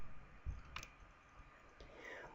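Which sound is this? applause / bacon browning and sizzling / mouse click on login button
mouse click on login button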